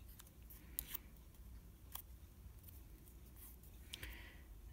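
Scissors snip through scrap paper while cutting craft tags and scrap monsters, giving several short, crisp cuts spaced irregularly over a quiet room background with no talking.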